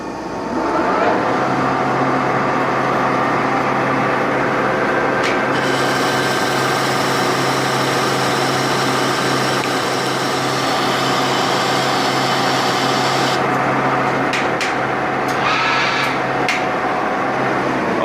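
Metal lathe turning with a new TaeguTec turning tool at a 0.5 mm setting, a loud steady machine drone with a high cutting whine that changes partway through, continuous and close.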